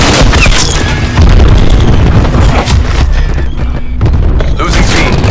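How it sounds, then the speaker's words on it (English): A cluster grenade goes off in the shooter game Call of Duty Black Ops 4, a loud booming burst inside a dense, constant wash of gunfire and explosions, with game radio voice calls over it. "Cluster grenade."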